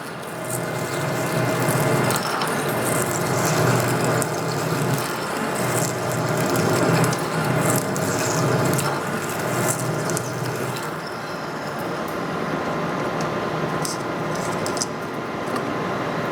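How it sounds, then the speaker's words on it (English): Metal lathe cutting through a workpiece held in a restored chuck, a continuous grinding, chattering mechanical whir under load with fluctuating intensity, close and loud, no speech. "You can hear the lathe loading up, so I'm not babying this."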